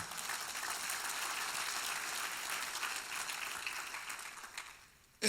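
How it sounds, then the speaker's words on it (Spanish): A church congregation applauds the Lord during a sermon, a steady wash of clapping sustained for about five seconds before it fades out at the end. "¿Cuánto le dan un aplauso al Señor?"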